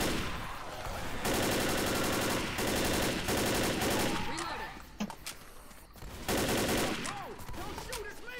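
Sustained machine gun fire in a co-op campaign shooter game rattles in long, loud bursts with brief gaps between them. Scattered single shots and metallic clanks fill the pauses.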